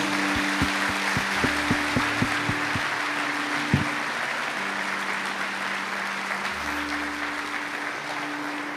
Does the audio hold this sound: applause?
yes